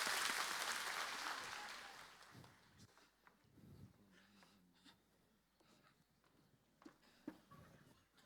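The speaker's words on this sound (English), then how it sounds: "give her a big hand of applause" Applause from a youth convention audience for a magician's volunteer swells loudly at first, then fades out within a few seconds, leaving scattered knocks and faint murmuring.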